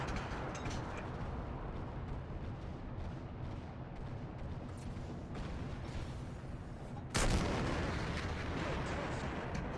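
A heavy tank cannon shot booms in War Thunder over a steady rumbling engine bed, a single loud blast landing late in the stretch.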